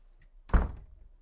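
A door closing in a video game as a character walks out: a single soft, muffled thunk with a short low rumble, fairly quiet and alone.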